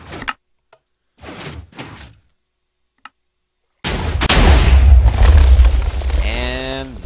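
An overkill TNT cannon in Minecraft fires with a short click and a couple of scattered thuds, then a loud, close, booming blast rolls on for several seconds before fading.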